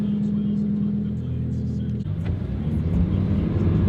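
A Lamborghini Huracan Tecnica's engine while driving, a deep steady droning hum from the cabin whose pitch drops halfway through and then builds slightly again.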